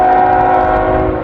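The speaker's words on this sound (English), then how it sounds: "we got a train coming" An approaching train blasts its horn, a loud, steady, multi-tone blare that sounds close and fills the whole moment.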